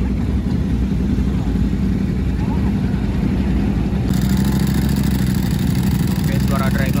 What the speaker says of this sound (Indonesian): Ini mau keluar nih ya kan, 3 Ducati Monster cuy.